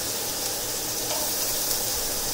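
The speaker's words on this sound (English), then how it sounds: "I have some diced white onion that I'm just going to put into each frying pan" Diced white onion sizzles steadily in a hot frying pan, a dense hiss of frying that holds evenly with no talking.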